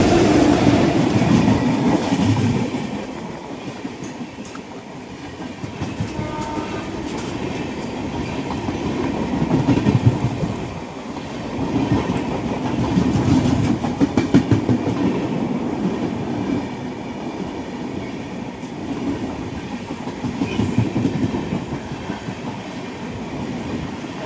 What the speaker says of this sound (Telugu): ట్రైన్ రన్ అయితే చాలా బాగుంది.